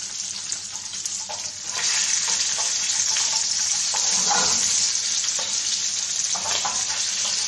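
Sliced garlic sizzles in a hot pan, a bright continuous hiss that swells after a quieter opening second, with occasional stirring clinks and soft scraping over the top.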